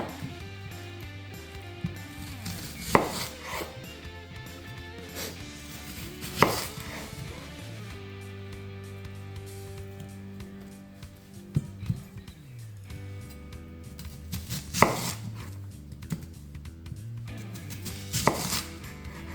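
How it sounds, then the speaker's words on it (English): An onion being sliced into rings with a knife on a board: repeated crisp chops at an uneven pace, some louder knocks standing out, close and clear with no talking. "Once we've peeled our onions, we want to slice it into about a 1 centimeter"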